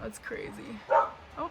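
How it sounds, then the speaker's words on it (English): A dog barks a few short yips outdoors in strong wind, mixed with someone talking over it. "You can hear the dog barking."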